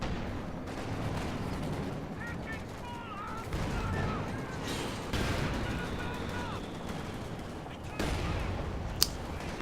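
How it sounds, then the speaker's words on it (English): Stuka dive bomber barrage in the Company of Heroes 2 game, a rumbling run of blasts and gunfire with scattered sharp cracks and a loud pop near the end, under a speaking voice. "another nasty Stuka barrage"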